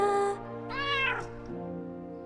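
A cat in the video game Crowns and Pawns: Kingdom of Deceit lets out one clear, loud, rising meow, alone with soft game ambience behind it.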